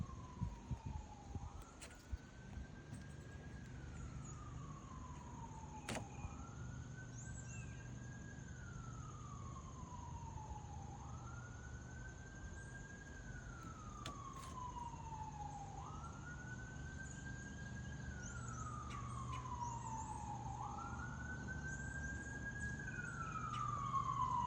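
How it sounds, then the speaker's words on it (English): An ambulance siren wails from a distance, sweeping up and down in a steady repeating cycle, faint under a constant low background hum. "So that was ambulance."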